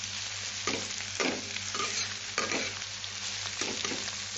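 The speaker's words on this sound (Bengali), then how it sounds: "একটু চিনি দিয়েই ভাজছি, একটু নরম হবে, একটু গ্লসি হবে" Ingredients frying with a little sugar in a pan for hilsa pulao, a constant close sizzle broken by periodic scraping stirs.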